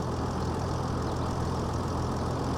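A steady, low rumble comes from a 225-horsepower tractor engine idling nearby on farm fields, an unbroken drone with no voices.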